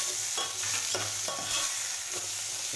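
Mango pieces and curry leaves stirred in a hot pan for mango dal: a constant sizzle broken by a few soft rhythmic scrapes from the spoon, close by.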